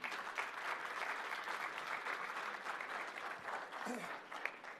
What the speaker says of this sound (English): please give our panel a massive round of applause